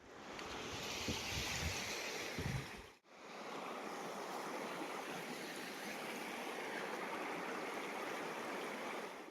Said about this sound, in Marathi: आता मी इलंय नदीवर